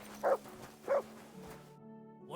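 In the video game Kingdom Come Deliverance II, a dog gives two short barks a little apart, moderately close over a low steady game ambience, followed by quieter background sounds.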